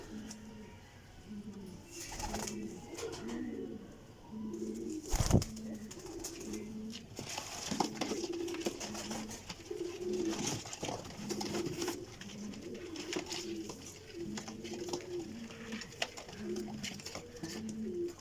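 Soft, rolling coos from a flock of Rampuri pigeons repeat steadily in overlapping phrases, with sporadic clicks and thumps, faint background chatter, and a quiet, close-up feel.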